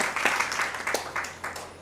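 Fairly faint, uneven clapping from a gathered audience at a Hindu devotional lecture, arriving in loose bursts of hand claps rather than sustained applause.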